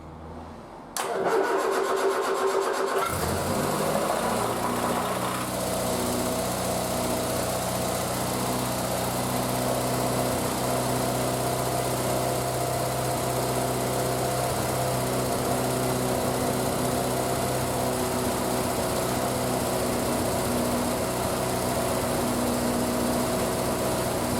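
A Triumph Spitfire engine on full choke cranks briefly, catches and settles into a steady, loud, close idle that runs on without a break.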